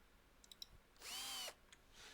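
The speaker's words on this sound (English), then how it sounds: "or your battery drill." Battery drill driving screws into planks while fortifying windows in the video game Survive the Nights: one loud, steady whirring burst of about half a second, rising and falling in pitch, with a few faint clicks before and a quieter tail after.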